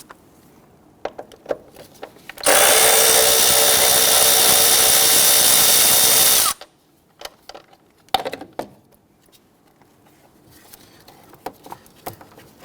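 A power tool spins a 10mm bolt loose on a 2017-2020 Hyundai Elantra 2.0L in one loud, steady burst of about four seconds, set between quiet clinks and handling noises of work on the car.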